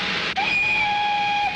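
A steam train whistle sounds in a film scene, a steady, piercing two-tone blast held for over a second over a soft background hiss, beginning just after a brief dip and ending abruptly.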